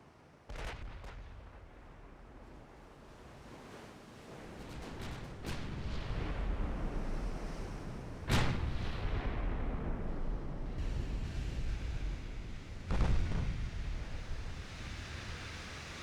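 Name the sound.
naval gunfire of dreadnought guns in video game Ultimate Admiral Dreadnoughts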